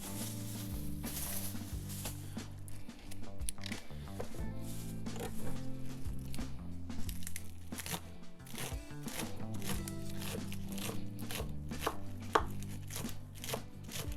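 A knife chops green onion on a cutting board in rapid, steady taps throughout, close and crisp over a continuous bed of background music.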